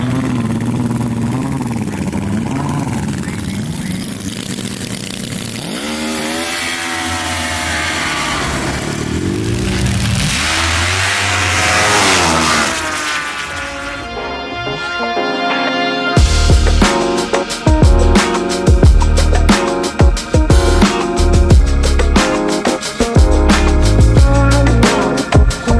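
A Hypersports HRC4 racing snowmobile blasts off on a quick up-and-down run, the loud engine note rising sharply, then a harsh, pulsing roar after a short gap.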